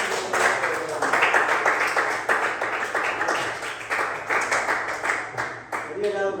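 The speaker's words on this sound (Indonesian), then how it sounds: "Ya, tepuk tangan buat ini." A group claps hands in a round of irregular, moderately loud applause that carries on throughout.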